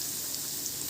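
Cauliflower florets fry in hot oil, giving a continuous, even sizzle and crackle that fills the moment with no voices.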